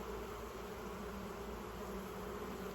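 Honeybees buzz steadily in an opened hive on a homestead, a dense, continuous drone that fills the whole stretch at an even level with no talking.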